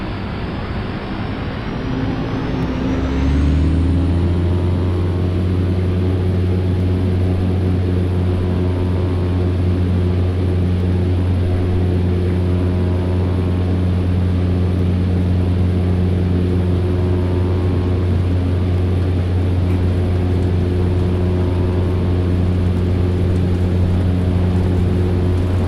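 A simulated Cessna C208B turboprop engine spools up from idle in the first few seconds, its whine climbing in pitch, then settles into a steady, loud, droning hum with strong low harmonics that holds for the rest of the run.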